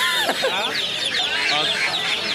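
Chickens clucking at a poultry market, rapid overlapping squawks and clucks from birds nearby, continuous and busy, mixed with a vendor's voice calling prices.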